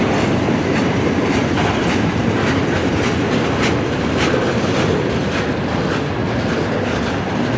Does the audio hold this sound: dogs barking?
no